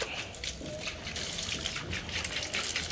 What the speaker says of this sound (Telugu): చెట్లకి నీళ్ళు పోస్తున్నారు